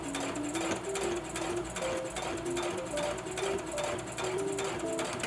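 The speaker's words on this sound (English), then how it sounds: "These are my settings on my sewing machine, so I'm going to go ahead and sew all around" A sewing machine stitching fabric for a face mask runs steadily and continuously, its fast mechanical stitching hum holding at an even, close-up level throughout.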